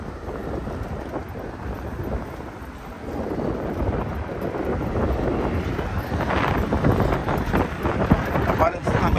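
Gusty wind from a cold front buffets the microphone by a riverside in a continuous low rumble, growing stronger toward the end, with a voice faintly underneath.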